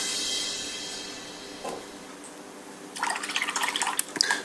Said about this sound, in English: So I'll just rinse out my brush a little bit,